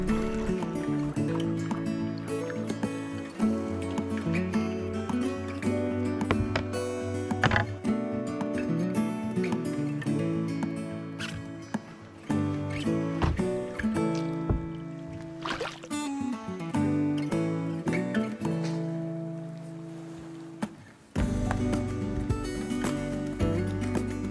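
A heavily loaded Ally canoe is paddled on a lake in Dalsland-Nordmarken, Sweden, with a steady run of close paddle strokes, splashes and knocks against the hull, and water dripping between strokes.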